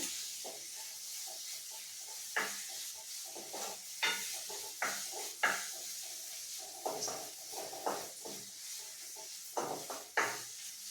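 Moringa leaf thoran ingredients frying in a pan until golden, with a steady soft sizzle and repeated sharp stirring scrapes and clatters throughout, no talking.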